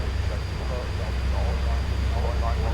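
A simulated airplane engine drones steadily on landing approach in the X-Plane flight game, a constant low rumble with a faint high whine, lasting throughout.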